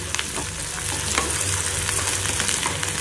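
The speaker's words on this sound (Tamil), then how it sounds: "வெங்காயம் வந்து நல்ல கோல்டன் ப்ரௌன் ஆகணும், அது வரைக்கும் நல்லா ஃப்ரை பண்ணுங்கள்." Onions fry in hot oil toward golden brown, a loud, close, steady sizzle with frequent crackles and spatula stirring scrapes running the whole time, alone without talk.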